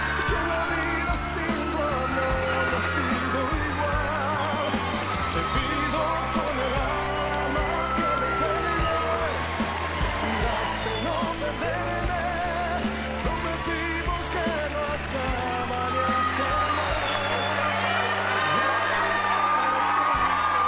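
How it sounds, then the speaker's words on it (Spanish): Television studio audience welcoming actor Fernando Colunga on a talk show, loud sustained cheering and whooping from a packed crowd with applause, continuous and close. "Un fuertísimo aplauso para recibir a Fernando Colunga."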